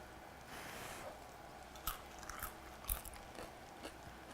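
Crispy skin from a roasted chicken bitten and chewed up close, a few sharp crunches spaced out over quiet room tone, faint and without talking.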